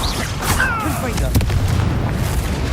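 Confringo fire-blast spell explosions in the wizarding game Hogwarts Legacy, deep booming blasts and crackling impacts in quick succession amid combat noise.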